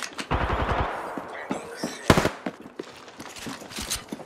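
Gunfire in the Apex Legends battle royale, a rapid automatic burst followed by scattered single shots and short volleys at varying distances, fairly close and loud against an otherwise quiet background.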